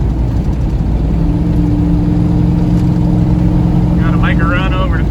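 A turbo Chevrolet Silverado pickup cruising at 70 mph on northern Oklahoma roads gives a loud, steady engine and road drone, with a brief voice rising over it near the end.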